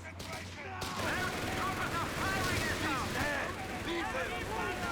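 Machine gun suppressive fire in Company of Heroes 3, a 2v2 battle, rattling as a dense fusillade of rapid bursts over continuous battlefield rumble, with chirpy overlapping sound effects and commentary talk throughout.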